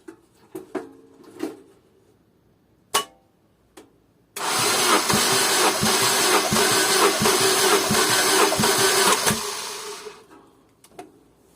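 An Opel/Vauxhall petrol engine cranks over on the starter during a compression test, a loud steady churning with about nine regular compression pulses lasting several seconds, preceded by a few scattered clicks and knocks.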